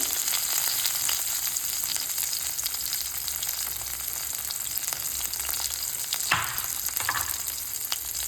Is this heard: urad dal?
yes